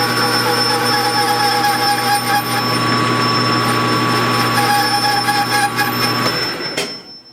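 A Kerzel flywheel spins with a loud, steady mechanical whir and a sustained high squealing tone that runs throughout, then cuts off abruptly near the end.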